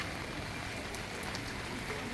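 Steady rain falls over an open market in Non Sung, Korat, during a monsoon day, a continuous broadband patter and hiss with no clear pauses.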